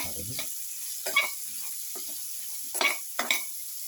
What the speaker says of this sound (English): Now put in the bottle gourd pieces. Salt.